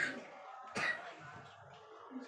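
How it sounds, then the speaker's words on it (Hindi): A single sharp cough rises briefly out of a quiet room during a spoken math lesson, with faint room noise before and after. "ज्यादा खांसी हो गई है।"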